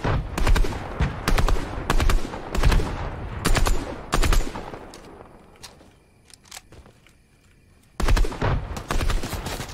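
Video game gunfire, loud sharp shots fired in quick bursts, a pause with fainter distant shots, then another rapid close volley.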